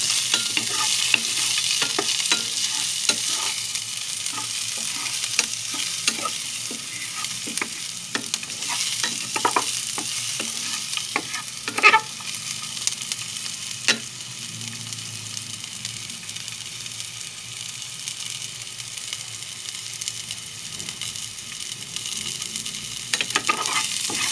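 Garlic sautéing in a tablespoon of palm oil for Filipino dried adobo makes a close, steady sizzle, broken by frequent sharp clicks and scrapes of stirring throughout, with no voices.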